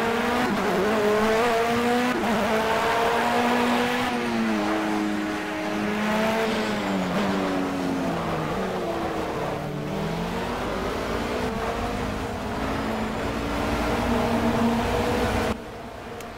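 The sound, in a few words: race car engine in video game Project Cars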